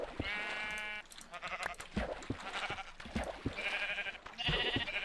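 Several light grey sheep in Minecraft bleat in quick succession, their nasal wavering calls overlapping and repeating near and clear amid soft game noises, with no talk.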